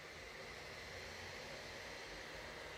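An Asus TUF FX505 laptop's cooling fan runs loudly, a steady, airy whoosh of noise held at an even level throughout, with no talk.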